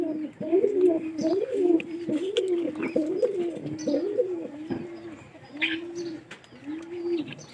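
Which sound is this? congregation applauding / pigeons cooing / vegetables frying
pigeons cooing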